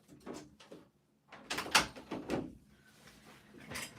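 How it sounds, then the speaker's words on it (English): A door being closed indoors, a few knocks and a sliding, latching thud in a quiet room, close by and moderately loud, with brief handling noises before and after. "I'm gonna close the door then."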